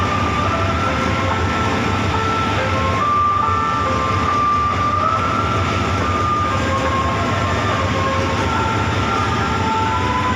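Diesel locomotive of express train 112 standing at Chum Saeng station, a steady loud engine rumble with a faint high whine drifting in pitch, continuous throughout with no talk.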